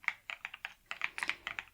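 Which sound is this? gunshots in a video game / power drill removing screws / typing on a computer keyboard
typing on a computer keyboard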